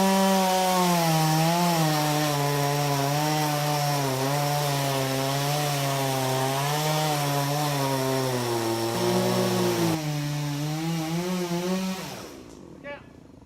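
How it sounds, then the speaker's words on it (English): A chainsaw runs steadily at high revs while cutting down a tree that holds a burned-out bee hive, loud and close, its pitch wavering and dipping under load before the engine drops off and winds down at the end. "I'm gonna get my chainsaw fired up."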